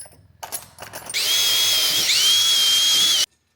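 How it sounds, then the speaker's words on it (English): A power drill with a larger bit bores steadily for about two seconds as part of building an electric scooter prototype, its high whine loud and close, shifting pitch once mid-run. Short clicks and handling noises come before it starts. "Gotta get a bigger drill bit."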